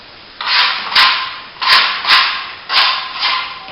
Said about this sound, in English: Okay, we'll put that on the wall now. We'll use a 6-inch scraper and just a trowel.